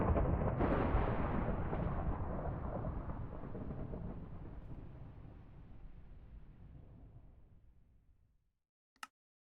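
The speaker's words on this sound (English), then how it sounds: "I think that is causing thunder." Deep rolling thunder in a Minecraft GregTech New Horizons world, a broad rumble that starts loud and slowly fades out over about eight seconds, followed by a short faint click near the end.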